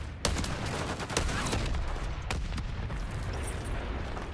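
A frag grenade goes off in the Call of Duty MWIII video game amid a chaotic firefight, with sharp blasts and bursts of gunfire over a loud, dense rumble of battle.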